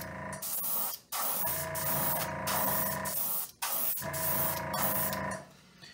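Spray paint hissing steadily as orange is coated onto a perch fishing lure, three long close bursts separated by brief pauses, loud and continuous with no voices.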